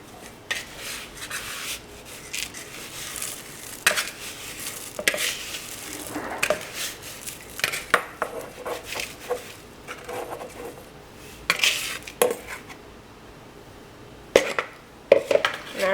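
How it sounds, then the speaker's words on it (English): Wet and dry oatmeal snack bar ingredients are mixed together in a bowl, giving irregular close scraping and clinking strokes of a utensil against the bowl that come in uneven bursts. "Now I have my wet ingredients all in here, and I have my dry ingredients in here, and I'm just going to mix them together."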